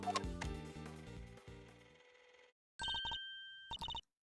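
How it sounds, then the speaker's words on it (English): A cell phone rings on a played-back tape in a courtroom video game: rhythmic electronic ring bursts follow a loud musical passage that cuts off, then a short pause and repeated ringtone pulses. "Mr. Edgeworth, that's Judge Gabel's cell phone"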